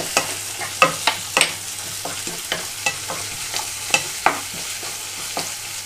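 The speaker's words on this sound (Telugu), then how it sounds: "ఇప్పుడు ఇందులోకి నేను అల్లం వెల్లుల్లి పేస్ట్ 1 స్పూన్ వేసుకుంటున్నాను. దీంతో పాటుగా కొంచెం కరివేపాకు కూడా వేస్తున్నాను." Ginger garlic paste and curry leaves fry with onions in a pan for a tomato boondi curry: a steady low sizzle broken by sharp, irregular spatula scrapes and taps against the pan, close and alone.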